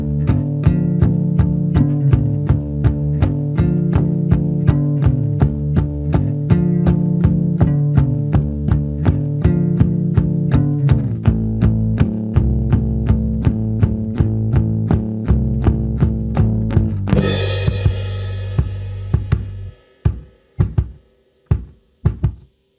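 Full-band backing for a song, with a steady drum groove, a heartbeat bass drum pattern and a crash, running on a loud, regular pulse before breaking into a few isolated hits near the end.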